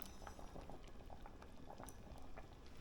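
A pot of vegetarian coconut milk vegetable soup bubbling steadily, a soft continuous simmer of small popping bubbles, faint and even throughout.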